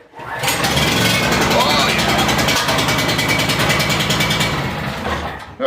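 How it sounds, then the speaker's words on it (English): A small gasoline generator starts up and settles into a loud, steady running drone outdoors in freezing winter snow, close by, with a brief spoken exclamation over it. "Okay, generator's running."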